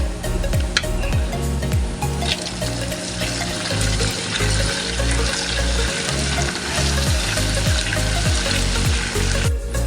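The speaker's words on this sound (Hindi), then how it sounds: "अब मैं 1 चम्मच लहसुन अदरक का पेस्ट ऐड कर रहा हूँ इसमें।" Garlic ginger paste frying with onions in a pan for an aloo bhujia potato dish: steady loud sizzling and crackling throughout, with rhythmic scraping as the mix is stirred, and no voice.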